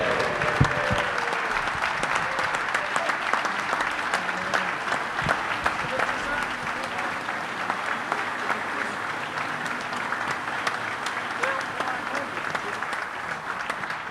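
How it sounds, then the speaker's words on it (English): A live audience at a Christmas special in a venue gives a big, sustained round of applause welcoming a former UEFA Cup-winning footballer, steady dense clapping lasting many seconds with faint crowd voices underneath. "Would you please give a massive round of applause?"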